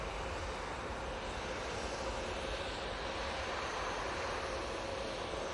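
A jet airliner departing Manchester Airport for Munich produces a loud, unbroken engine roar that stays steady and close for the whole stretch, with no other sounds standing out.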